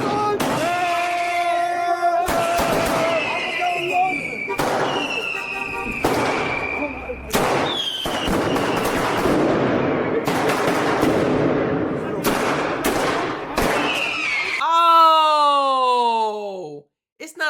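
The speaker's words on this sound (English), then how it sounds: "Oh, it's not a gun. Man, it's shooting fireworks." German fireworks firing in rapid volleys of sharp cracks that sound like gunfire, with loud rattling bursts and rising whistles near the end, over someone talking.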